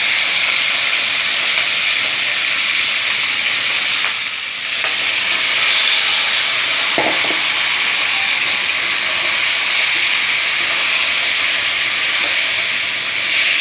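Masala-coated chicken pieces fry in a pan over a full gas flame, giving a loud, constant hissing sizzle across the whole stretch, with a brief dip and a small clatter partway through.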